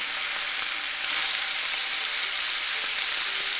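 Steak pieces sizzling and frying steadily in a hot pan for Korean steak tacos, a continuous close crackling hiss with no talking.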